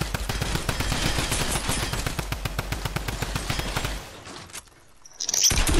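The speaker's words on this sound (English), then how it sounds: "I'm good with this gem gun." A gem gun fires in rapid automatic bursts in a video game, a steady stream of sharp shots for about four seconds, then a pause and a brief bright blip, with no talking.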